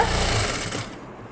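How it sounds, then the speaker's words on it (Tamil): A sewing machine stitches blouse fabric with a rapid, close mechanical rattle that fades out after just over a second. "இதை அப்படியே நம்ம சுருட்டின மாதிரி தைச்சிட்டு வாங்க"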